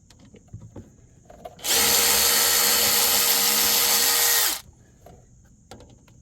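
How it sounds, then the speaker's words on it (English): A Snap-on powered ratchet loosens brake bolts during front rotor and brake work on a truck, giving one loud, close, continuous whirring burst of about three seconds against a quiet background. "Now we can just loosen it up with the snap-on ratchet and get it done quick."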